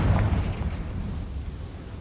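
A Confringo fire spell in Hogwarts Legacy bursting in a loud, rumbling explosion that starts strong and then fades into a rolling low-end decay.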